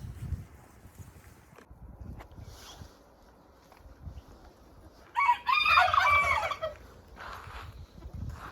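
Backyard hens and a rooster on New Year's Eve: soft scattered clucking and rustling, then a loud rooster crow in the middle, with faint crowing in the distance afterward.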